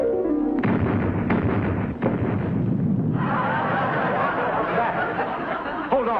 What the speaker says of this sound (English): I think a fuel drum exploded.